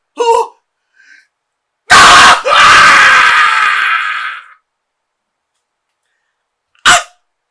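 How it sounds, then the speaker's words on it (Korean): A loud, drawn-out scream of pain lasts about two and a half seconds. A short cry comes before it, and a brief sharp vocal burst follows after a stretch of silence. "이 비명소리, 그때의 그것과도 같고다"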